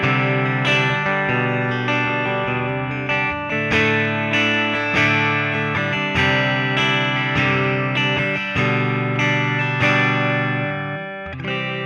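Electric guitar played through a JOYO Jam Buddy II amp with its church reverb setting, a series of loud, ringing chords and picked notes whose tails wash together in a long, spacious reverberant decay.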